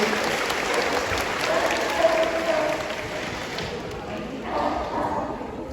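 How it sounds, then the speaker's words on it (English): Audience clapping at a sea lion show at Knowsley Safari, a broad, continuous wash of applause from a crowd with some voices mixed in throughout. "give them both a big round of applause for the seal impression"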